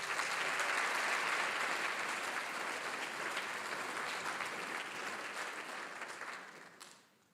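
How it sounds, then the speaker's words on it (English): Audience at a battle of the bands event giving a round of applause, a broad, full burst of clapping that holds steady and then fades out in the last moments. "Give him a round of applause."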